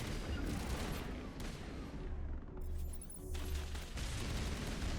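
Gunfire in the video game Mass Effect 1 during a squad firefight against snipers, rapid bursts of shots with booms and mechanical clatter running continuously at moderate level, with no one talking.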